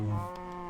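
A Minecraft cow gives one short, close moo, a low droning bellow that fades quickly, with no one talking over it.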